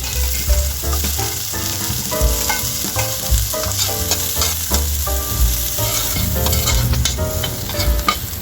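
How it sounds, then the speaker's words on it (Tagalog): Ginger, garlic and onion frying and being stirred in a pan, a steady loud sizzle with repeated scraping stir strokes throughout, no voices. "Ilagay na natin guys yung ating bawang at sibuyas."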